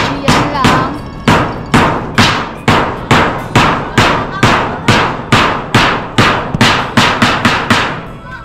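Hammer driving nails into wood while preparing a house for a typhoon: a steady run of about sixteen loud, sharp, evenly spaced blows, close by, with no talk over them.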